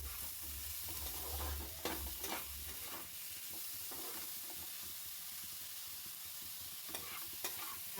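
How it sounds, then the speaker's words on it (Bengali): Cauliflower is stirred in oil in a hot frying pan, a quiet, continuous sizzle and hiss broken by repeated scraping strokes of a spatula, close and faint. "ফুলকপিটা এবারে একটু নেড়ে নেব ভালো করে"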